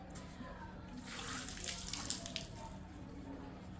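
Water is poured in a single thin stream during a ritual offering to ancestors, a soft splashing trickle rising and fading over a few seconds against a quiet background hum.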